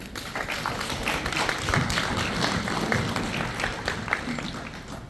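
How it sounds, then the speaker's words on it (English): An audience at an Indian health board panel gives another round of applause, a moderate, steady patter of clapping with a low rumble of room noise beneath it. "Let's give them another round of applause"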